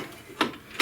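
A wrench ratchets on a rusted front suspension bolt of a 1994 Mazda Miata, two short metallic clicks about half a second apart, close and fairly quiet.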